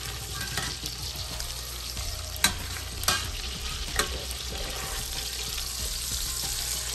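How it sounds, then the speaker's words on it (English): Beef pot roast sizzles steadily as it browns in a pot on the stovetop, a constant hiss of frying with a few sharp clinks of utensils against the pot. "Now it's browning, but it's not browning the way that a frying pan would."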